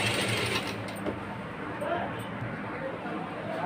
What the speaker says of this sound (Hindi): अब हम इसमें सिलाई कर देंगे